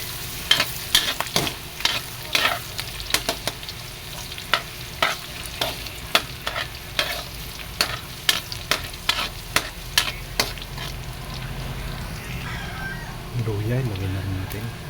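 Garlic sautés in a pan for a creamy mung bean stew and is stirred steadily, with a constant close sizzle and repeated sharp scraping clicks of the utensil across the pan.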